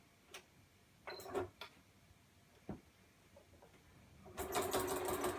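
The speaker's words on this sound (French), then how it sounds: "je fais la couture sur l'autre côté" A sewing machine stitches bias binding onto a quilt, with a few short separate clicks and taps before a sustained, buzzing run of stitching near the end, close and fairly quiet.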